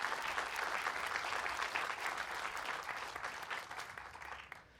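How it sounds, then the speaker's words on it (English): An audience at Sunnyvale's State of the City address breaks into warm, sustained applause, a dense, even wash of clapping that gradually tapers off toward the end. "Yeah, we can clap for that."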